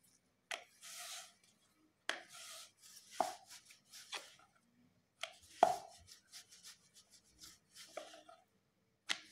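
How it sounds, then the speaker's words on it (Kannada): Wheat flour dough being pressed and patted into a flat chapati round by hand, heard as short bursts of soft slapping, rubbing and dabbing separated by quiet pauses, close and fairly faint. "ಈ ಥರ ಒಂದು ಗೋಧಿ ಹಿಟ್ಟನ್ನು ತೊಗೊಂಡು ಈ ಥರ ನಾವೇನು ಮಾಡಬೇಕು, ಒಂದು ಚಪಾತಿ ಥರ ಒಂದು ಮಾಡ್ಕೊಬೇಕು."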